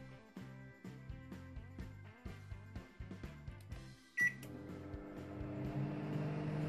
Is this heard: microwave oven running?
yes